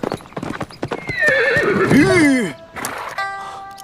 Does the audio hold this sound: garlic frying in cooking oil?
no